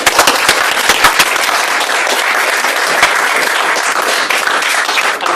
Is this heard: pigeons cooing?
no